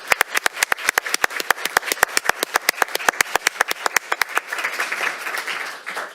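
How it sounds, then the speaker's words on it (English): Audience applause at a school district board meeting, a crowd clapping steadily and briskly for about four seconds, then fading into a softer wash of scattered claps and room murmur. "So round of applause for all of you out there"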